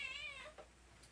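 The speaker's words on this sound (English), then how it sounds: "What are you meowing about?" A house cat meows once, a clear, fairly close drawn-out call in a quiet indoor room, followed by a faint short chirp.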